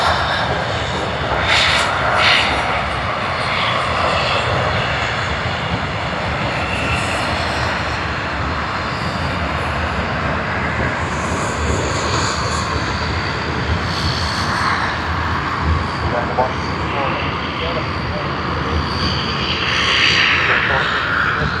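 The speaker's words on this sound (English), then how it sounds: "And this one's just arrived from Canberra, Dash 400, Qantas Link 432." A QantasLink Dash 8-400 turboprop arriving at Sydney Airport from Canberra gives a steady, loud engine drone that holds the whole time, with faint voices over it.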